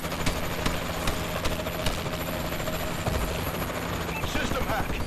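A Warbird attack helicopter in a shooter game drones with a steady, dense rotor and engine roar throughout, with faint gunfire pops and game voice lines underneath.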